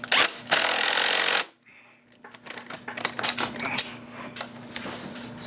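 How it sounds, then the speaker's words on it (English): Wrench work on the tilt/trim unit of a 1988 Mercury 70 HP outboard motor: a loud burst of power-tool whirring, then a run of sharp metallic clicks and ratchet taps close by, with no talk. "I have to get that last one with a wrench."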